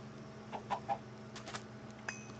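A chicken in the Minecraft Ultra Hardcore game gives several short, soft clucks spaced irregularly over a faint steady background hum, with a final brief cluck near the end and no voices.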